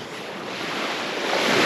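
Surf at Huatulco beach rolls in as a broad, loud wash of breaking waves, swelling slightly toward the end, with some wind noise on the mic and no voices.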